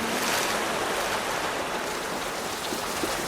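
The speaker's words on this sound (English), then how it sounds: "as the waves come in." Ocean waves wash onto a shore in a dense, steady surf roar, loud and close with a constant hiss and no pauses.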